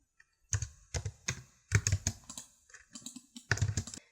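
Keys on a computer keyboard and a mouse button are pressed in pattern CAD software, producing sparse, close clicks in small clusters separated by short quiet gaps, with no talking.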